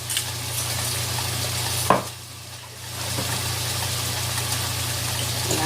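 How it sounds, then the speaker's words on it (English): Saltfish with black pepper stirred in a frying pan, a steady sizzle with scraping stir strokes, one sharp clack near the middle, and a low hum underneath. "And then I'm going to stir that around."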